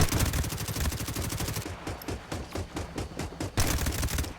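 Rapid automatic gunfire rattles in a mobile team deathmatch shooter, a steady stream of sharp shots with brief pauses and a fresh burst near the end.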